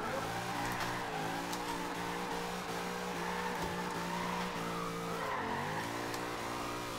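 A Ford Escort drifts in Forza Horizon 2, its engine revving and howling through shifting pitch while tires squeal continuously, steady and fairly loud with no talking.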